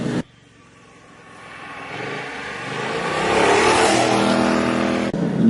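A BMW C 650 Sport maxi-scooter engine accelerates after a brief cut, its drone rising and growing louder over several seconds before a short drop at the end.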